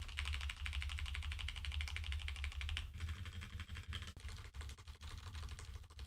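Rapid, continuous typing on a HyperX Alloy Origins mechanical keyboard, a steady stream of quiet, crisp key clacks over a low background hum.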